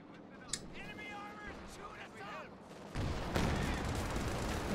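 Gunfire bursts from a Pershing tank and surrounding units in the video game Company of Heroes 2, a sharp shot early then heavier rumbling fire in the second half, under game voice chatter.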